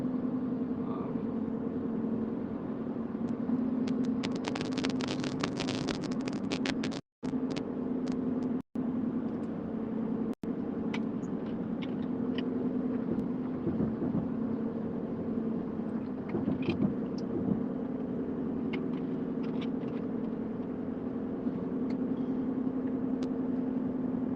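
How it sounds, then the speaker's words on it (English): Steady low rumble of a car interior while driving, with wind noise and passing traffic blending into a constant drone and brief bursts of louder hiss, no voices. "we're fighting the sounds of the car and the wind and the other vehicles with our own voice"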